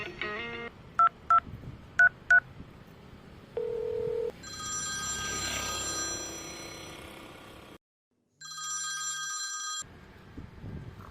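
A telephone is dialed for a call: a few short keypad beeps in a quick row, then longer steady tones and ringing-style pulses separated by a brief silence, clear and fairly close.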